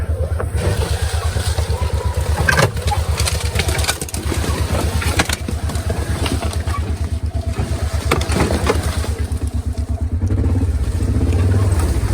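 Gator utility vehicle driving in four-wheel drive on a farm trail, a loud, steady low engine chug with rapid pulsing and rattling, close up, brief bumps and surges throughout.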